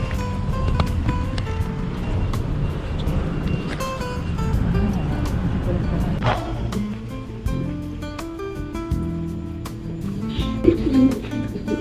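Racing pigeons coo inside a loft at a pigeon breeding facility, with soft throaty calls under a steady background hum and a few sharper clicks and movements nearby.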